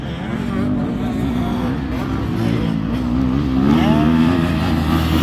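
KTM motocross bikes racing on a track, including a KTM 73, heard as engine whine rising and falling as the bikes pass at a moderate distance, with crowd voices faintly underneath.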